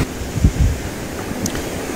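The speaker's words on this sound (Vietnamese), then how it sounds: "mà sóng vỗ thì thấy cũng nhiều." Sea waves wash onto a beach on a fishing coast in Phu Vang, Hue, Vietnam, under a gray, windy sky, making a steady broadband roar buffeted by wind noise, with a couple of heavier surges early on.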